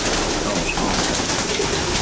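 Racing pigeons coo inside a winter loft, soft overlapping calls over a dense, steady background murmur, close to the listener.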